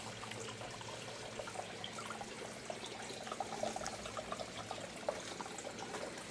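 Faint trickle and splash of water poured onto a fabric grow bag to soak it, a soft uneven pour heard at a modest distance without speech.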